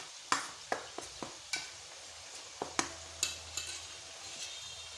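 A utensil stirs eggplant frying-batter ingredients together in a bowl, making a series of sharp, close taps and scrapes at irregular intervals over a quiet background, with no talk.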